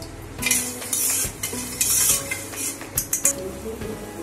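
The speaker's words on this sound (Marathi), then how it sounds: "आता आपण त्यांना मिक्स करून पाक होऊ देऊया जरा" A spoon stirs sugar syrup cooking for rava besan ladoo, scraping and clinking against the pan in irregular strokes over a low sizzling bubble, close and fairly loud, no voices.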